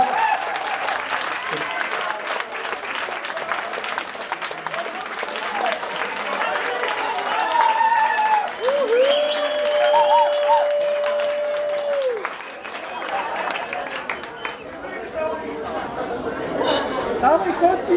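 An audience claps and cheers to welcome salsa dancers at a Christmas party, sustained applause mixed with crowd chatter and voices, with a brief held musical tone partway through.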